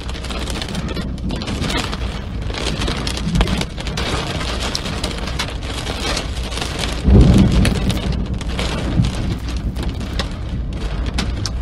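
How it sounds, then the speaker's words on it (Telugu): Heavy rain pours in a hailstorm with strong gusting winds and thunder in Haryana and Noida, India. The downpour is loud and continuous, with a deeper rumbling surge around the middle. "ఈదురుగాలులతో కూడిన వడగళ్ల వాన పడింది"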